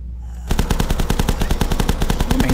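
A machine gun in the video game TLS: Union City fires one sustained, rapid burst of evenly spaced shots that begins abruptly after a brief silence and stays loud and close.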